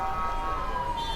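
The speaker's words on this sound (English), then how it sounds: "I just want to avoid the siren for a second." Emergency vehicle siren sounding steadily on a Jerusalem street, loud and continuous with a held wailing tone over traffic and street noise.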